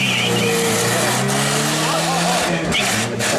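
Car tire burnout at a small-town car show in Dowagiac, a loud sustained engine roar with rising and falling revs and a harsh tire-spinning hiss, close by, with people talking over it.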